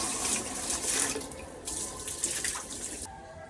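Water runs from a tap while fresh pangas fish are washed, a continuous close splashing gush that cuts off near the end.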